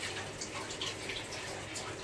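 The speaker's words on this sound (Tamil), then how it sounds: "நல்லா கொதிச்சிட்ருக்கு." Ginger water bubbles on a stove in a pot, a steady close burbling and hiss of boiling liquid with small popping bursts, continuous and fairly quiet.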